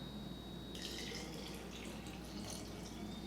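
Clean water is poured into glass jars partly filled with cabbage for fermenting sauerkraut, a soft continuous splashing trickle that starts abruptly and runs steadily, quiet and close, with no talking.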